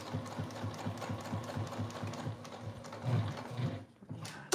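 A sewing machine stitches a row on a tote bag, a fast, steady mechanical chatter running close and alone before slowing and stopping near the end.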